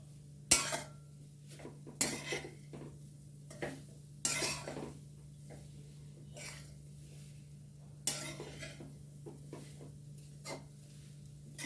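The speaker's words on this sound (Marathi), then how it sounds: "अशा पद्धतीत आपण खोबऱ्याचं खीस परतून घेत आहोत" A spoon scrapes and clinks against a pan while grated coconut is stirred and sautéed in ghee for coconut barfi, with a few sharp metallic knocks and soft scraping over a steady low hum.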